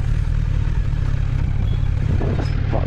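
A Kawasaki Z900 motorcycle idles close by with a steady low, throbbing engine rumble while being parked, a faint clatter rising near the end.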